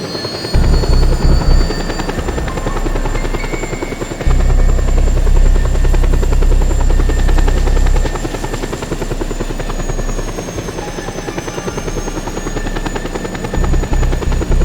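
Helicopter in the action video game Just Cause 2: a loud, continuous rotor thrum and engine whine close up, with rhythmic blade chopping that swells and drops in intensity as the craft maneuvers.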